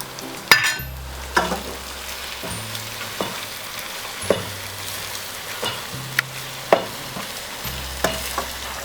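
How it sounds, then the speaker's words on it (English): Yam and ewedu vegetables stirred in a pot on the fire, a steady close sizzle broken by regular spoon knocks and scrapes against the pot about once a second, with no talking. "I add my Ewedu and still stir it."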